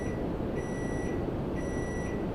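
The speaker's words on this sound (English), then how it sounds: "Do not be alarmed by that beep. That is the microwave." A microwave oven beeps in a room where a live plane-spotting stream runs near Toronto Pearson airport, giving a few steady electronic tones over constant low background rumble.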